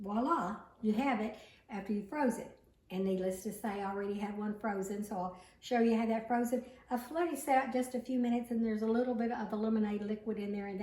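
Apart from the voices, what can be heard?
No everyday noise stands out behind the speech.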